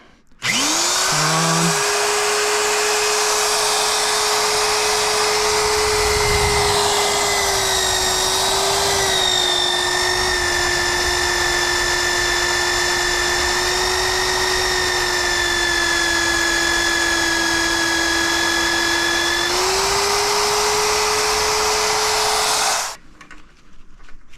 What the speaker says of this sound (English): Now this mag drill does make a mess